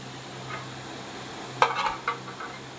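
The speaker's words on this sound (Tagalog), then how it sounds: "So ayan po at ating batihin or ating i-mix." Banana bread batter of eggs and sugar is beaten in a bowl, giving a few brief, close scraping and knocking bursts over a quiet steady hum, with no speech.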